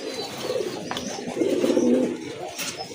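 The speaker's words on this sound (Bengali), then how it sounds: "অনেক বড় সাইজের এক জোড়া পারবিন কবুতর, একদম পিওর হোয়াইট কালার" A pair of large pure-white Parbin pigeons at a pigeon farm coo in soft low repeated calls, close by and swelling midway, with faint background noise.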